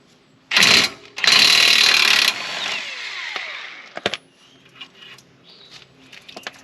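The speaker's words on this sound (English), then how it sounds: "take the 22 millimeter and remove our lower shock bolt" A 22 mm wrench works the nut off the lower shock bolt of a 2022 Toyota Tundra during a lift kit install, giving two loud bursts of rapid ratcheting followed by scattered metallic clicks and taps up close.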